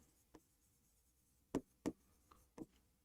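Marker or chalk strokes on a board during an accounting lesson, a few separate short scratchy taps and squeaks, two of them louder, in a quiet room with no talk.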